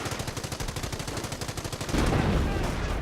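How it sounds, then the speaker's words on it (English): Artillery strike in the Company of Heroes video game: a rapid train of sharp, loud blasts for about two seconds, then a heavier rumbling explosion that carries on to the end. "Use the artillery strike ability to defeat the German attack."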